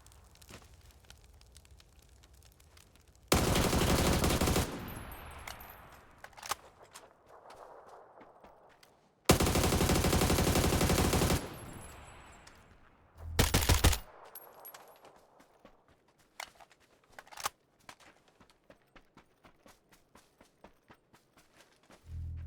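Gunfire in PUBG on the Sanhok map: two long, loud automatic bursts about two seconds each, then a shorter burst, with quieter single shots and footsteps scattered between them.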